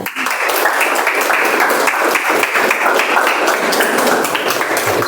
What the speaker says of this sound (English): Please help me welcome with a loud round of applause, Mazahir.